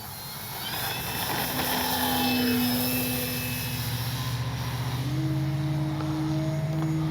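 Flex Aviator 40E electric RC plane on its maiden flight, a steady loud drone with a rising and falling motor whine that shifts pitch midway, near and continuous throughout.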